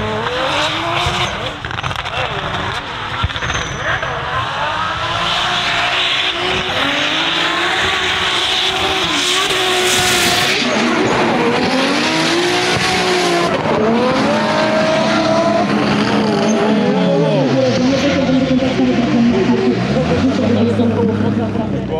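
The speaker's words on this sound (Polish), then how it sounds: "właśnie rozgrzewają opony" Drift cars warming up their tires at the Drift Open competition in Toruń, loud revving engines and long tire squeals rising and falling close by, with people talking over the noise throughout.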